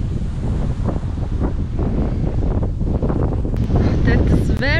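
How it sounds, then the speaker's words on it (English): Strong coastal wind at Nambucca Heads buffets the microphone in a loud, continuous roar with rumbling gusts and no letup, and a faint whistling sweep rises near the end. "That is very windy."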